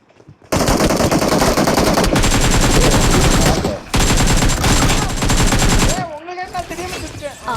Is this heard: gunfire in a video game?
yes